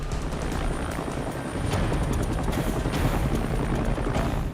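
A helicopter holds a high hover during a lifeguard rescue, its rotor thumping loud and close overhead with a constant whining drone throughout.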